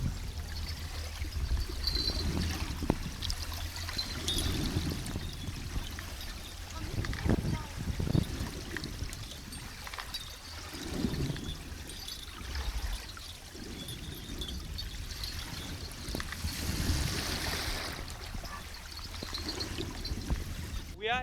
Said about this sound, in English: We are hearing here a lot of sound coming from the chains and the port installation, as well as the waves and the wind.